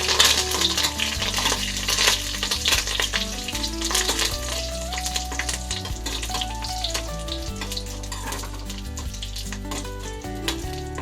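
Dried red chillies and curry leaves crackle and sizzle loudly in hot oil with popping mustard seeds, a steady dense frying hiss with sharp spits throughout, backed by a continuous low hum and no voices.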